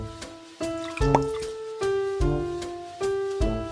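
Cartoon-style liquid dripping effect from an overly wet cookie batch: a run of bright, tonal drips and plops in an uneven rhythm, close and fairly clear with no talking.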